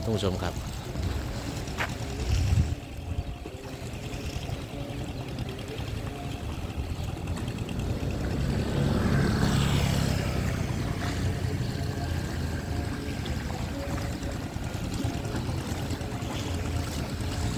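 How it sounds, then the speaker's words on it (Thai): A fishing boat's engine rumbles steadily at a distance as it heads out to sea from a Cha-am beach pier in Thailand in the evening, over wind and water noise, swelling slightly midway before settling; no clear talk. "เรือกำลังออกไปนะครับ"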